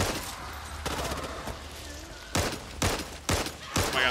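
Gunfire in the zombie shooter Back 4 Blood, a rapid burst of shots followed by four or five sharp separate gunshots at close range, with faint game background underneath.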